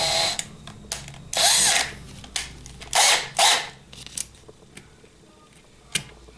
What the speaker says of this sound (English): Drill out one post